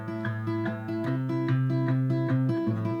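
Acoustic guitar strumming the chorus of a song, steady rhythmic strums with an alternating bass note on the low strings, close and full with no talking.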